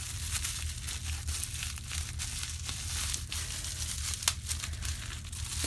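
Steady crinkling and tearing of wrapping as a small unboxed candle-supply item from Chouette Cire et cie is opened close by, with continuous rustling and scattered sharper crackles throughout.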